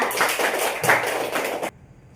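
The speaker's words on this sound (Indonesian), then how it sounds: "tepuk tangan dulu untuk semua" A classroom of students clapping hands together in a short burst of dense, fairly close applause that cuts off abruptly near the end.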